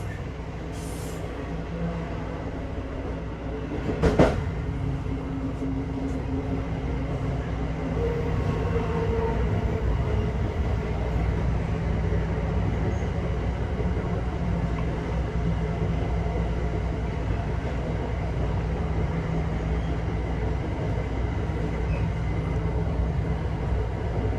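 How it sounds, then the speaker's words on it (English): An eastbound freight train rolls steadily past near Altoona and Cresson, Pennsylvania, with locomotives on the rear for braking downhill; a constant rumble and clatter of wagons holds for the whole stretch, with one sharp knock early on. "And those locomotives on the rear of that eastbound there to provide additional braking power going down the hill."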